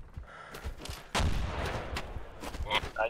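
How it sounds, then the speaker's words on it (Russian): Hand grenade blasts in the video game ArmA 2 during a team-versus-team firefight, a heavy explosive boom near the middle followed by scattered smaller bangs and crackles, loud and close. "По нам ручные гранаты."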